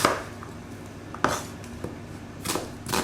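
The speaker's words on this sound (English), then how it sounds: "Chop the onion roughly." An onion is roughly chopped with a kitchen knife, giving a handful of sparse, quiet blade knocks against a cutting board with pauses between them.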